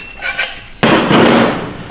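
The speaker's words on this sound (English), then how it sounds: "take a end of a hammer and just kind of tap on it" A hammer taps a transmission housing during a Ford 4R100 teardown, knocking the housing back into its case. A few faint light taps are followed by one sharp, loud metallic strike that rings on in the workshop.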